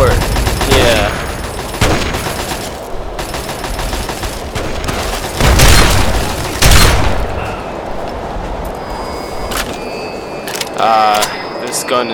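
Shotgun fire in the Fallout 3 game, repeated loud blasts spaced a second or two apart with echoing tails, then sparser shots and clicks toward the end.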